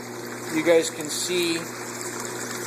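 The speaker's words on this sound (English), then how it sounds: "there is quite a bit of water movement going on" Pumped water flows and churns inside an aquarium tank in a fish room as a steady, moderate wash, while someone talks over it.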